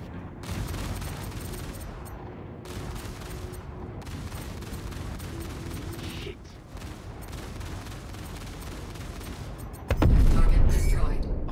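Ship cannons in the space game Star Citizen, fitted to an Anvil F7C Hornet Wildfire, fire in dense, loud rapid bursts, with a heavier boom near the end.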